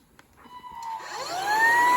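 A Fakir Inovator X 7272 upright stick vacuum cleaner switching on, its motor whine rising in pitch and loudness to a steady close hum.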